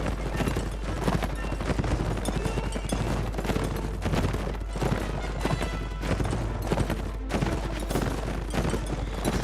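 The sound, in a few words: horses galloping in the video game Mount and Blade Warband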